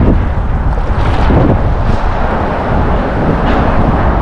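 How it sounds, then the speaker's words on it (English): Wind blowing hard across the microphone while paddling on the water out of the Mystic Estuary near Boston: a loud, constant low rumbling roar with gusty swells, no talk. "there's a nice wind pushing me exactly where I want to go"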